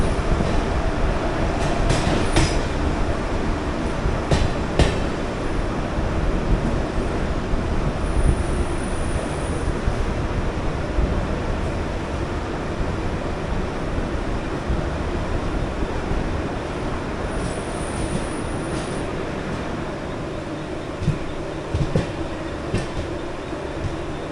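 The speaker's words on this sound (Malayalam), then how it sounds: "നമ്മളങ്ങനെ ലോണാവല സ്റ്റേഷനിൽ പ്ലാറ്റ്ഫോം നമ്പർ 2 എത്തിയിരിക്കുകയാണ്" The 12126 Pragati Express stands at Lonavala station platform with its generator running, a continuous loud rumble from inside the Vistadome coach, with occasional clanks and two faint high squeals.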